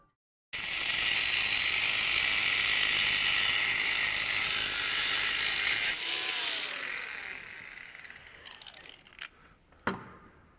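A power tool cutting screws to length during a Nissan Navara D40 bull bar fitting gives a loud, continuous high-pitched whine for several seconds, then winds down, ending with a few sharp clicks and knocks.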